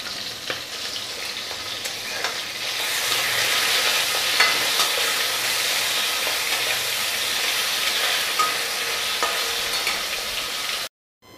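Rohu fish pieces sizzle and crackle loudly in hot oil in a home kitchen, the frying swelling after being flipped and holding steady before cutting off abruptly near the end.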